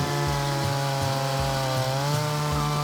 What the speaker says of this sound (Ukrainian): Бензопила запросто розрізає її на пеньки.